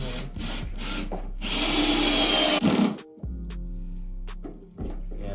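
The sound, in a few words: power drill drilling into floorboards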